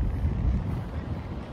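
Gusty wind blows across a beach on a sunny but cool day, buffeting the microphone with a low, rumbling roar that rises and falls.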